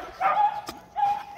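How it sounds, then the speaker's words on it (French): A young dark male puppy barks and yips twice, short bright sounds close by with a quiet pause between them. "Qui a encore comme chien qui est beau?"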